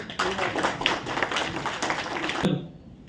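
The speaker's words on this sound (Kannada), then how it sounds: "ಜೋರಾಗಿ ಚಪ್ಪಾಳೆ ತಟ್ಟಿ" A crowd applauding at an annual anniversary event, dense clapping filling the space for a few seconds before breaking off abruptly.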